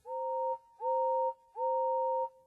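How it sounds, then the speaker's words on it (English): A steam engine's whistle blows three long steady two-tone blasts in even succession, clear and fairly loud against a quiet background. "Far away, but getting louder and louder, was the sound of an engine's whistle."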